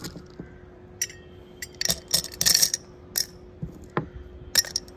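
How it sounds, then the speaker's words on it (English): Small hard colored pebbles clink and rattle into a glass pot in a series of uneven bursts, some single drops, some quick clusters. "Now let's put the colored pebbles."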